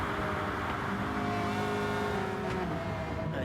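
A race car engine roars loudly and continuously, with its pitch shifting as it downshifts through the gears into a corner.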